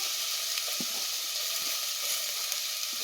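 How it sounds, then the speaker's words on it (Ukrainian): Onion, pepper and other vegetables fry in a pan for a potato and wild mushroom soup, giving a steady close sizzle with a few soft taps from stirring. "Додаю овочі, цибульку і перчик. Хай трошки обсмажуються."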